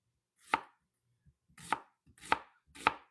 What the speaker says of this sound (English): I'm going to do nice, long, skinny, stringy onions.